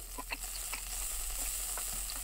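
Meat sizzling on a grill in the Yakiniku Simulation video game, a steady close frying hiss with small crackles and pops scattered throughout, heard alone.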